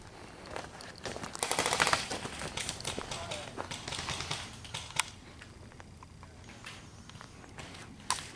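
Airsoft guns firing during an outdoor airsoft game at a VFW field, rapid bursts and sharp single shots sounding fairly close, with footsteps and movement mixed in throughout.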